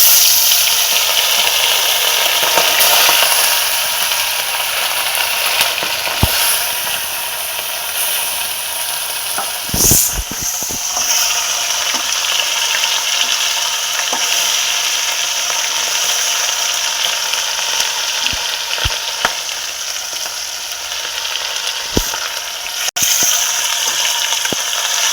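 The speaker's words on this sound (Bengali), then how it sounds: "খয়রা মাছগুলো এখন ভেজে নেব।" Small khoira fish frying in a pan, a steady close sizzle and hiss running throughout with occasional clicks and stirring scrapes of a utensil.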